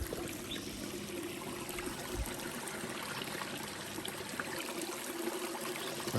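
A small stream trickles and gurgles steadily nearby among willow bushes on Zuma Ridge Trail, soft and continuous with no voices.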